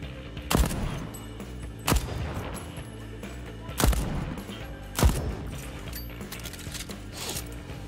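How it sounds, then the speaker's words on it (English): Hand cannon gunfire in the video game Deathloop: four loud, sharp single shots spaced about a second or two apart, ringing over a dense, rumbling game soundtrack. "Don't mind me just sniping with a hand cannon."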